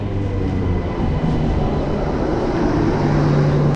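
A local train bound for Puri pulls into Jaleswar station, a heavy steady rumble with low droning tones and faint squeals throughout, close and loud with no voices.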